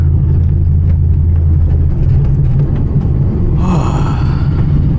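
A New Edge Ford Mustang drift car on the street, its engine droning loud and steady through a handbrake drift, with a brief rising whine near the end.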